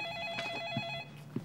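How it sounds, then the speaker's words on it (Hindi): Telephone ringing indoors in a Disney India sitcom, a bright electronic ring repeating in quick pulses close by, then cutting off as faint thuds follow. "अंकिता, शिप्रा का फोन है।"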